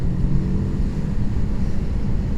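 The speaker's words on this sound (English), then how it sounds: "when we are up in the revs, I'm really enjoying the exhaust" Moto Morini 6 1/2 motorcycle exhaust at high revs, two pipes feeding a single silencer through a cat, a steady loud low rumble that holds for the whole stretch with a slight rough pulse.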